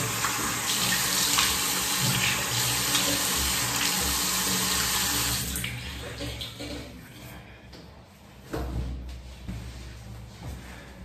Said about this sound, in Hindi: मैं केवल इसको अपने बेयर्ड एरिया को अच्छे से पानी से धो देता हूँ